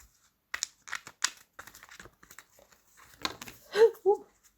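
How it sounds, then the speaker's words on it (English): Tarot cards shuffled by hand, with short papery riffles and soft taps in quick bursts, close to the microphone, while a person talks. "So let me just shuffle some more."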